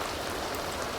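Rain falls in The Sims 2 as a dense, steady patter that fills the whole moment. It stays fairly quiet and even, with no voices.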